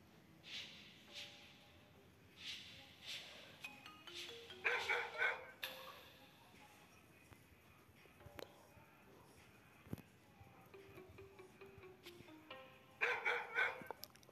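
A dog in the Robbery Bob video game barks in several short, fairly quiet bursts. A stronger pair of yelps comes in the middle and another near the end, over faint game background sounds.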